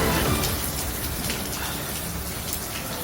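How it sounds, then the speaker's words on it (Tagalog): Heavy rain pours steadily near a house fire in Kapitolyo, Pasig, caught on a cellphone, a dense continuous hiss of drops drumming on surfaces, loud and unbroken throughout. "Dinig pang pagbagsak ng ulan sa cellphone video ito ng isang residente malapit sa sunog sa Kapitolyo, Pasig kanina"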